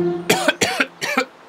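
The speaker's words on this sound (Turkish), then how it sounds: "öksürüyor, hapşırıyor" Three quick coughs close by, evenly spaced in a short burst, with nothing else heard.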